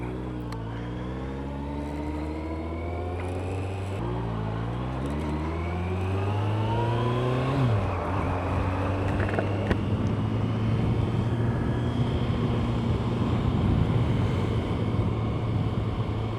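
A motorcycle engine under way hums steadily with rising and shifting tones through the gears, sitting close and fairly loud with wind rush building over time.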